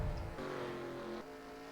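Race cars in NASCAR Racing 2003 pull out of the pit stop at Watkins Glen, engine tones humming and shifting pitch as they accelerate, moderately loud with no talk.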